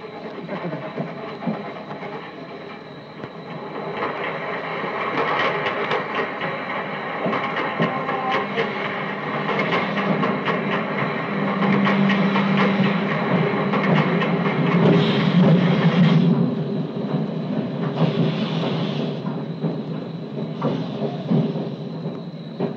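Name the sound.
train arriving at station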